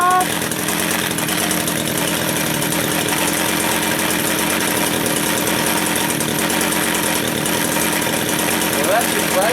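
A brand-new Echo 620 petrol engine runs steadily at its very first start, a loud continuous mechanical drone that fills the whole stretch without pause.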